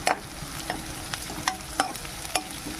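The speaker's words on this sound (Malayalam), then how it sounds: "പച്ചമുളക് ഇട്ട് കൊടുക്കാം. നല്ലോണം ഇളക്കി കൊടുക്കാം." Green chillies and onion fry in a pan for fish upperi while a spoon stirs them, making sharp scraping clicks about every half second over a soft, steady sizzle.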